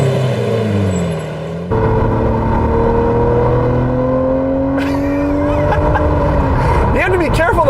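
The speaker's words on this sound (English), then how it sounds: "The sound with the downshifts is so good." A Lamborghini Murcielago LP640 V12 revs and downshifts, its loud engine note sweeping up and down in pitch close by, with a voice talking over it.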